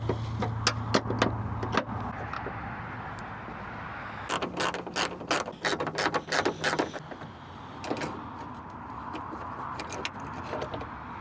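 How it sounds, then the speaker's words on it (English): A 12mm wrench ratchets out bolts from the hatch strut bracket on a 2009-2014 Honda Fit (GE8), with close, quick bursts of clicking, metallic ticks and light clatter in short runs. "Those are easy to remove with just a regular wrench."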